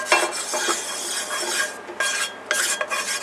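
A wooden spatula spreads oil across a non-stick pan in quick scraping, rubbing strokes. The scrapes come in short bursts with brief pauses, close and fairly loud, with no talking.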